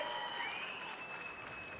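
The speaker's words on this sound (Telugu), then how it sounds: "ఉన్నారంటే గట్టిగా చప్పట్లు కొట్టి హర్షాన్ని ఆమోదం తెలియజేయండి" Audience at a TDP political rally with Chandrababu Naidu clapping steadily throughout, a dense wash of applause with a thin high whine running over it and no voice on top.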